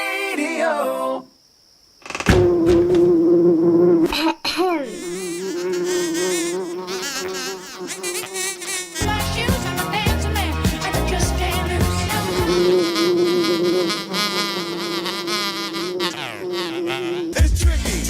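Humming of wild bees, a loud sustained insect buzz with steady pitched drones that shift and layer over each other, broken by a brief silent gap near the start.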